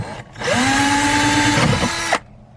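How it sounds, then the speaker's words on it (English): A power drill spins up and runs steadily with a rising whine as a hole saw cuts through a plastic tub for a chicken feeder, then stops abruptly. "Here's the hole saw. There is a drill."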